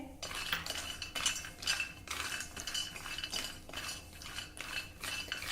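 Cashews and almonds dry-roast on low heat as a spoon stirs them around a pan, making repeated light clinks and scraping rattles at close range, with no one talking.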